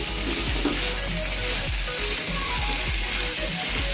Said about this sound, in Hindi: अब सारा ये जो हमारा ग्रीन मसाला था वो इसमें डालने लगी। अच्छी तरह इसे मिक्स करेंगे।